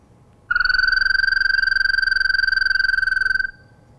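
A frog gives one long, loud, steady trill of about three seconds, a pure pulsing tone with a buzzy edge that starts and stops abruptly against a quiet background.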